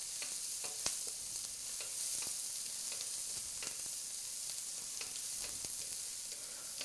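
Shrimp shells frying in a pan while cooking pad thai, a bright constant hiss of sizzling oil with scattered sharp spits and pops, close up and steady, no voices.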